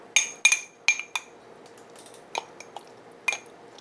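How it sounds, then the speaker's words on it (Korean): A spoon scrapes and clinks against a bowl or pan as salted shrimp goes into a pumpkin stir-fry seasoned with perilla oil; several quick metallic taps come close together, then fainter scattered clinks follow. "새우젓을 한 큰술을 넣고요"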